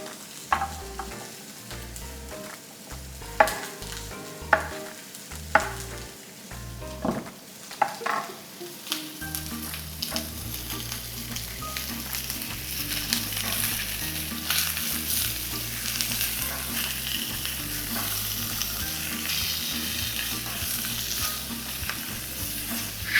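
Meat for a Tavush-style fried cabbage stew sizzles in a pan. A few sharp knocks and clatters come first, then a loud, continuous frying hiss settles in, with background music throughout.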